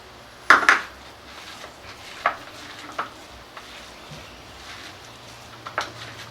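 Chopped banana flower is added to ground lentil batter in a bowl for vada, with a few sharp clinks of a spoon against the bowl and soft wet stirring, close and quiet between strikes.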